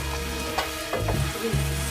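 Guanciale fat sizzles and crackles steadily in a hot pan while pasta is stirred through it, with a few soft scraping and clinking touches from the mixing.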